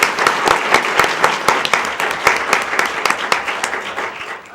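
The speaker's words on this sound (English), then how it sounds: "Give Dane a round of applause." Audience at a school board meeting applauds steadily for several seconds, a dense, close wash of clapping with no talking over it.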